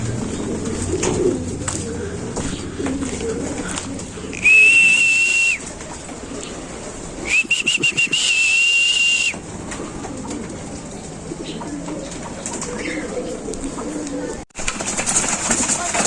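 Pigeons in a loft coo at feeding time with soft, low calls, broken by two bursts of a shrill, steady whistle while a person talks nearby.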